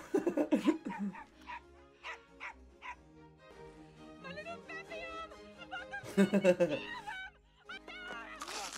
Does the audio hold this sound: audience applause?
no